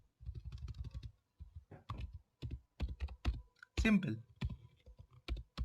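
Code is typed on a computer keyboard in rapid bursts of close, crisp key clicks with short pauses between, while a voice briefly speaks over the tapping.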